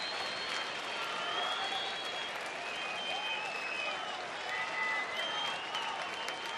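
Baseball crowd at a Pittsburgh at Texas game applauding steadily for pitcher Matt Garza, a dense, even wash of clapping from a large stadium audience that holds level throughout.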